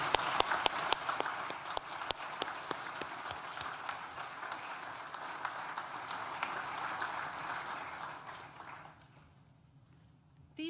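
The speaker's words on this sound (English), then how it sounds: "Please join me in thanking them with a well-deserved round of applause" A large audience at a university graduation ceremony gives a round of applause: dense, crisp clapping that holds steady for several seconds, then thins and fades out near the end.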